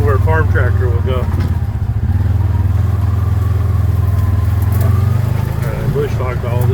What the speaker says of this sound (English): Amazing where a farm tractor will go.